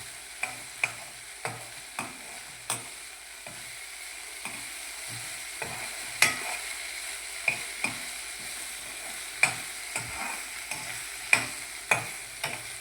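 A tempering of spices sizzles softly over a low gas flame, with repeated spoon taps and scrapes against the pan recurring every second or so throughout.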